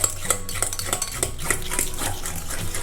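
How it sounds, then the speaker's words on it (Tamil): A fork whisks sugar into banana bread batter in a bowl, making quick repeated tapping and scraping strokes in a steady rhythm, close and moderately loud. "இதை நல்லா மிக்ஸ் பண்ணிக்கோங்க."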